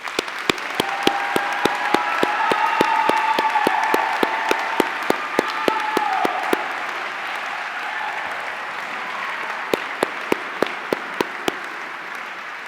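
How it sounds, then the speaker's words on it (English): A crowd at the Yale School of Public Health diploma ceremony in 2022 gives a long round of applause. Dense clapping fills the first half, then thins to a few scattered claps that briefly pick up again near the end. "as we pause to applaud your contributions to our YSPH graduates"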